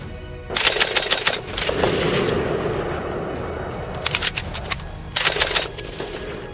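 Machine gun fire from a First World War air combat, in rapid bursts separated by a sustained roar, loud and close, with a short burst early and two more toward the end.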